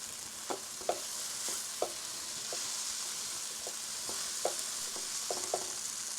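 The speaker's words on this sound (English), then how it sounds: "So now we are going to add all the vegetables now." Cauliflower and frozen peas hiss and sizzle in a hot pan for vegetable korma, a steady frying wash broken by scattered light clicks and scrapes of stirring, with no talking.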